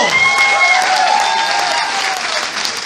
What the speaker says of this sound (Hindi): एक जोरदार तालियां हो जाएगा, अगर मजा आ रहा है तो।